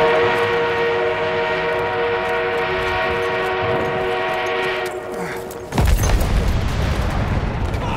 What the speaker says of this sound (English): An enemy armored train is en route.